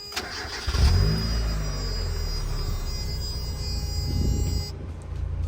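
A Japanese Eunos Roadster sitting in neutral cranks and catches about a second in, then settles into a steady, even idle, recorded close up with no voices.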